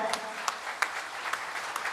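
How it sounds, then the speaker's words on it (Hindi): A faint, distant crowd claps together at a Kshamavani religious festival gathering, producing a steady patter of applause with a few sharper claps standing out. "सभी लोग एक बार तालियां बजाएं।"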